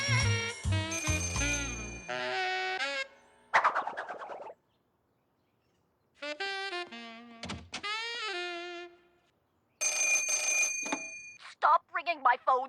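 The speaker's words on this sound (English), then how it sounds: "Stop ringing my phones, please." Cartoon telephones ring in short bursts of bright, warbling bells, stopping and starting across the clip, with animated character voices and comic sound effects between the rings.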